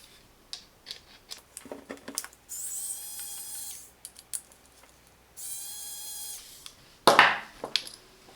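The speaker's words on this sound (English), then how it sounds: "We need to remove these two screws." Screws being removed from a Reolink Elite XPro PoE security camera, heard as a series of small clicks and metallic ticks, then stretches of steady whirring from a screwdriver, ending with a louder clatter near the close.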